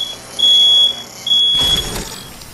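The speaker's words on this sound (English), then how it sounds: "Oh, my fire alarm went off." A fire alarm sounds two shrill, piercing beeps at close range, the second followed by a rumbling burst of noise.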